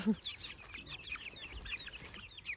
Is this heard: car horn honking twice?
no